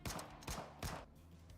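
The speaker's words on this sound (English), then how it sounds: "Jane and Rain begin firing at Takena." Rapid gunfire from the Nikke video game, with three sharp, loud shots in quick succession, each trailing into a short echoing decay, close and unaccompanied by speech.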